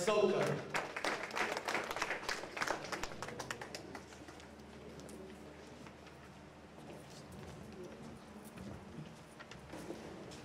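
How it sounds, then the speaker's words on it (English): An audience at an association convention in Philadelphia applauds a speaker, a dense burst of clapping that swells at first and then thins out into scattered claps as voices carry over it. "A round of applause for Jeremiah Sokan."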